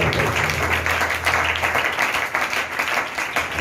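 A church congregation clapping together during fasting prayers, a steady, fairly close burst of many hands that keeps an even pulse throughout.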